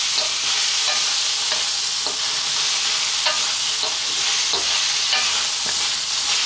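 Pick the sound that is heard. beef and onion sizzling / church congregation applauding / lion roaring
beef and onion sizzling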